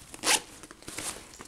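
A single quick zip run opens a 5.11 Tactical Rush 12 backpack, a short bright rasp that ends in faint rustling handling noise.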